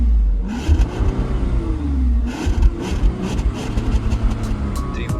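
A Bentley Flying Spur's exhaust, fitted with three mufflers, rumbles low and steady. The engine note rises and falls as it revs in short bursts, close by and fairly loud, with no voices.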